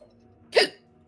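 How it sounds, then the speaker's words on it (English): A single sharp hiccup, short and fairly loud, set against a quiet background during a Resident Evil 5 gaming session. "Hiccups."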